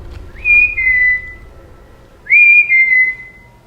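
Two clear whistled notes from a person inside a reputedly haunted building in Seattle, each a sliding tone held about a second, spaced apart with quiet between them, no talking.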